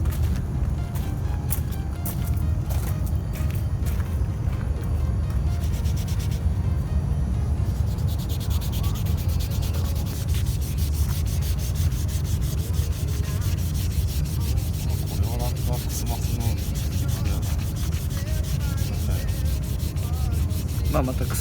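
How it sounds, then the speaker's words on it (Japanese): An old car's export tappet being hand-polished, a continuous loud rubbing and scrubbing close by with steady rhythmic strokes throughout, with no talking. "ラストこいつで磨いてきます"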